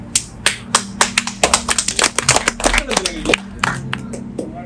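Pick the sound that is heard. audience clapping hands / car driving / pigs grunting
audience clapping hands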